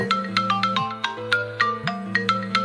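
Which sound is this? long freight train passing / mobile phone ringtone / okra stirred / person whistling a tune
mobile phone ringtone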